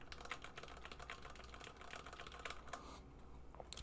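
Steady, rapid typing on a Ducky MIYA Pro keyboard with red linear switches, a dense run of soft keystrokes close up throughout, with no talking.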